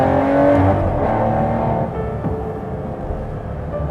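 Aston Martin Vantage GT12 with its V12 engine running loud and close, a steady full-throated drone that eases slightly in pitch halfway through with no talking over it.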